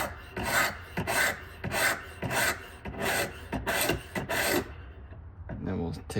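Steady back-and-forth rasping of a knife blade being sharpened on a coarse 120 grit stone, about eight rhythmic strokes close up, loud and evenly spaced, then stopping near the end.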